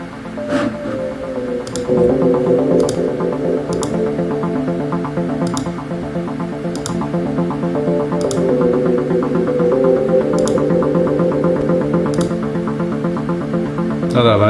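Sustained layered electronic music with repeating echoed accents that drift and slowly pan at regular intervals, a steady delay effect shimmering over a droning bed.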